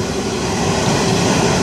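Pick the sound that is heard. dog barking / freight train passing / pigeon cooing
freight train passing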